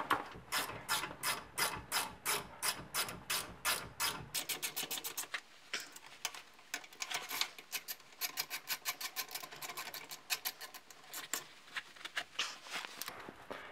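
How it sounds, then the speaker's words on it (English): A ratchet and socket tightening brake caliper bolts during a brake pad replacement, clicking in steady rapid bursts, with a slower heavier run of clicks, then quicker lighter ones, close and clear with no talk. "Then take your ratchet and socket,"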